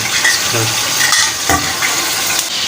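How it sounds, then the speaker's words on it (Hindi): Okra for Hyderabadi bhindi masala frying in hot oil in a pan, a steady loud sizzle with stirring scrapes throughout, no talking. "बस हो गया तेल गरम। इसको भूनना है।"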